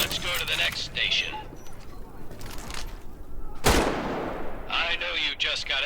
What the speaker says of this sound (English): K98 is a bolt-action rifle, so you reload by pulling and pushing the bolt